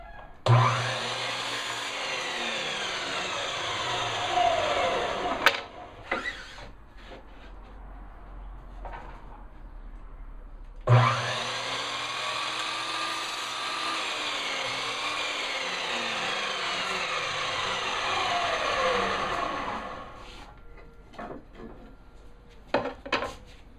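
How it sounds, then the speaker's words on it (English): A power saw cuts the side pieces of a wooden rope winder for a float tube anchor system, two loud sustained whining cuts of several seconds each, separated by a pause with small knocks and handling sounds. "the first thing we have to do is cut the sides to the rope winder"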